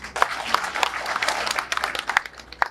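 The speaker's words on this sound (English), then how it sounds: "we can clap for PS" Brief scattered clapping from an audience at a mental health awareness gathering, a loose patter of individual claps rather than a full ovation.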